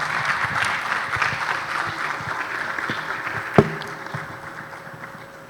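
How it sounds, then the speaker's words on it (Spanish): Applause from a conference audience, a continuous wash of many hands clapping that slowly tapers off, with a single sharp knock or thud standing out near the end. "Fuerte los aplausos, por favor."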